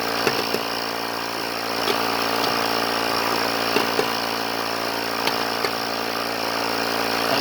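A portable electric tire pump steadily inflating a very flat tire on a 2013 Nissan Pathfinder, a loud, constant motorized buzz with faint regular ticks throughout.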